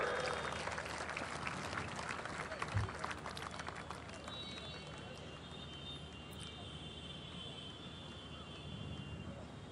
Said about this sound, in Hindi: सम्मान में जोरदार तालियों से